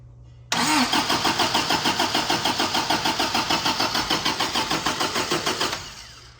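A 1980s gasoline turbo Toyota 4x4 truck engine cranks over steadily on the starter without catching, a loud, close, rhythmic churn of even pulses lasting several seconds before cutting off.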